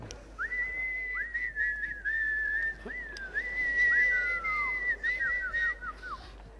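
A person whistles a wavering, sliding tune for several seconds, fairly close, with faint background noise and no talking.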